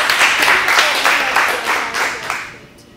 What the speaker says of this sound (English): So give him a nice round of applause.